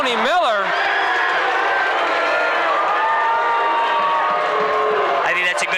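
A packed gym crowd at a 1994 high school boys basketball game roars in sustained disapproval at an offensive foul call, a dense wall of voices and shouts holding steady for several seconds.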